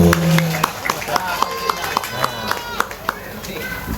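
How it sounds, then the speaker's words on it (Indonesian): Audience clapping at a Maulid religious gathering, a loose scatter of claps with rhythmic sharp hits, close and fairly loud, with voices chattering underneath. "Tepuk tangan dong."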